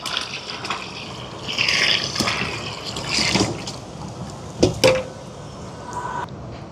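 Melted sugar syrup poured into a bowl of red rice flour batter for Sri Lankan egg rolls, a soft close trickle and splash followed by a brief knock against the container.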